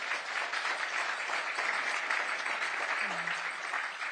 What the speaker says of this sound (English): Yeah, y'all can clap.